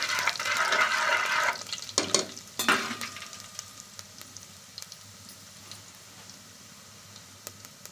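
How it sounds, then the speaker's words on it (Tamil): Garlic fries in hot oil for dal rice, sizzling loudly at first, with a few stirring scrapes, then settling into a softer, steady crackle. "நல்லா பூண்டு ரோஸ்ட் ஆகட்டும்"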